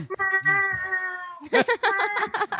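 A person's voice imitates a cat meowing with a drawn-out, wavering high mew, then goes straight into animated talking.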